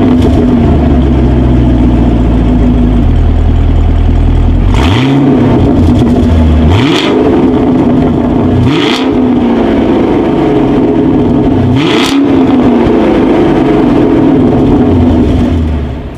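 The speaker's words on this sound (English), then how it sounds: "As always, here is that exhaust clip." A 2019 Chevrolet Camaro SS V8 idles with a deep exhaust burble, then revs sharply four times in quick bursts before settling back, loud and close.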